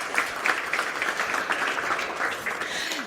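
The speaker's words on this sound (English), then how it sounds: "This is your round of applause." Sustained audience applause at a corporate tech day event, many hands clapping steadily for several seconds in a large room, fairly even and moderately loud with no talking on top.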